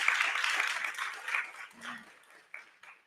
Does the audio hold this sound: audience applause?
yes